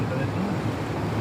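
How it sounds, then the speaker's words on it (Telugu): Sea waves washing continuously with wind noise over the microphone, heard from a vehicle travelling along a coastal road, a steady low roar without distinct breaks. "సముద్రం"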